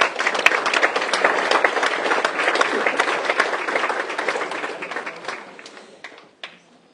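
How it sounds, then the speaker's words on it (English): An audience at a Veterans Day event at Malibu City Hall gives a warm round of applause for Father Larry Gosselin, steady crowd clapping that thins out and fades toward the end with a few last claps. "Let's give him a warm round of applause, Father Larry Gosselin."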